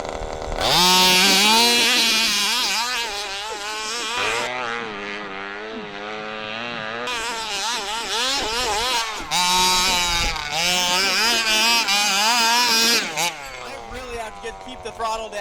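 An HPI Baja 5B RC car's small engine revs high and buzzy in repeated rising and falling bursts as it launches on a snowy motocross track with paddle tires.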